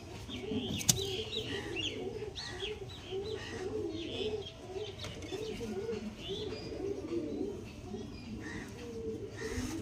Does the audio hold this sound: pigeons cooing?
yes